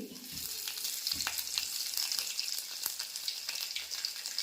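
Small onions (shallots) frying in a pan with fenugreek seeds for pineapple pulissery: a soft, fairly faint sizzle with scattered light clicks and taps from stirring.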